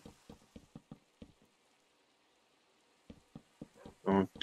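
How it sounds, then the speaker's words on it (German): Rain falling in Minecraft, with a series of soft, sparse drops and patters early on, a quiet gap, then more drips and a brief louder crackling burst near the end, no voices. "Ja, bei Regen ist es immer gut."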